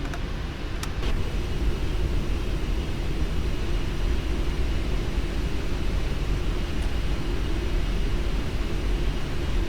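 A Boeing 747-8 in the Prepar3D flight simulator rolls out after landing with thrust reversers deployed, giving a steady, loud, unbroken engine roar throughout.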